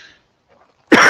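A sick adult gives one sudden, harsh cough close to the mic at the very end, after a near-silent stretch.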